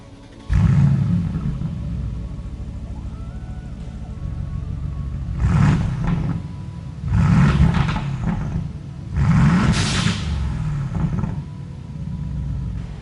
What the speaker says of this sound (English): It's a 4-litre quad-cam twin-turbo V8 that makes 510 horsepower and 685 Nm of torque.